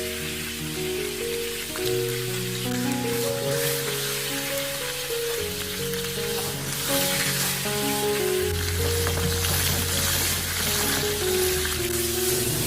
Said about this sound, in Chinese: 将鱼块煎至4面金黄就可以了。